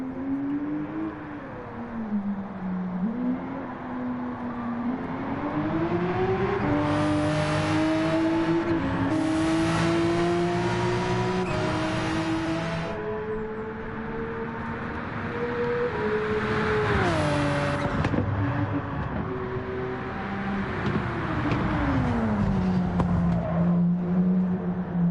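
A Porsche race car engine in Gran Turismo 7 revs and climbs through the gears, pitch rising and dropping with each shift, loud and close throughout with a brief tire squeal.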